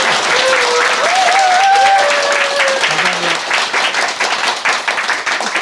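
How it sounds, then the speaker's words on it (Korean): A lecture audience in Damyang applauds in a sustained, dense wash of clapping that carries on for several seconds, with brief sung or voiced tones rising over the top early on. "여러분 박수가 필요합니다."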